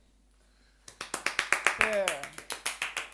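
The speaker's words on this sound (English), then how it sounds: "let's clap." After a quiet start, sharp rhythmic claps ring out at a steady beat, close and crisp, with a brief spoken word in the middle.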